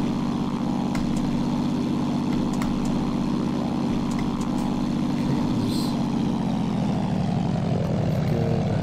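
A Zlin Z-142 aircraft engine holds a steady, loud propeller drone while run up to 1800 RPM for a magneto check in a flight simulator, a continuous throbbing hum with a slight pitch dip near the end.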